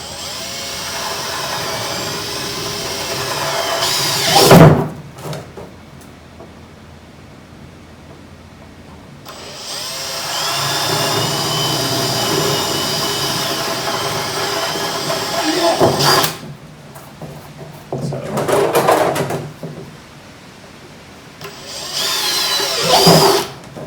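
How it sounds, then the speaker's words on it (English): A power drill with a 1/2 inch bit bores holes through a plastic poly barrel, in several loud sustained whirring bursts with quieter pauses between them. "So let me go get the drill set up and we'll go ahead and make these holes."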